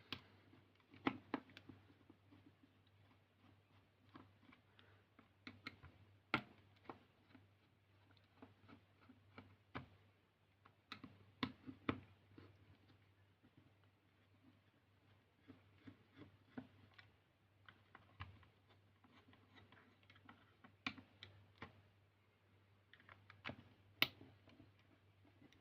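A tri-wing screwdriver works screws out of the back shell of a Game Boy Color, giving quiet, sparse clicks and ticks of metal on plastic at close range over a faint steady hum.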